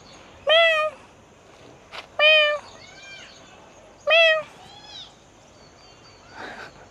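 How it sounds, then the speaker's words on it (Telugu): A cat in a neighbourhood park gives three loud, clear meows spaced about two seconds apart, followed by a few fainter, shorter mews, with quiet outdoor background between them. "పిల్లి"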